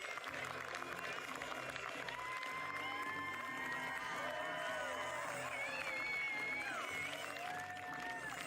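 Steady applause and cheering from a crowd at a ski cross World Cup awards ceremony fill the space, with whoops and loud voices rising above continuous clapping throughout.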